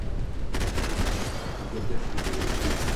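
Dense gunfire from the PC video game Max Payne 3, continuous rattling bursts with loud volleys that start abruptly and keep up without a pause.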